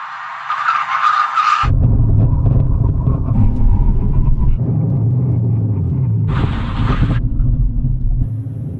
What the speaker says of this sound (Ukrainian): Тепер у нас тест на гальмування зі 160 км на годину.